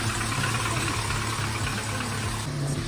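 A car engine idling on its first start with a new owner gives a steady, close, low rumbling drone with a faint mechanical clatter, heard alone without any voices.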